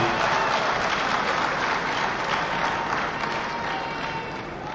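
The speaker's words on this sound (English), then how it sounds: "Can we give him another round of applause, please?" Dense, steady applause from a large audience at a government vision summit in Enugu, a continuous wash of clapping that tapers gently toward the end.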